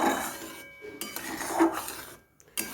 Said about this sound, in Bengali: এবারে আমি কড়াইয়ের মধ্যে বেশ কিছুক্ষণ নেড়ে চেড়ে নেব